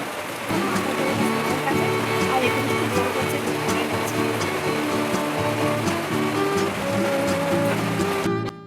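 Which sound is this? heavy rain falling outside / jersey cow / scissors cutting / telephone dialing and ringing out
heavy rain falling outside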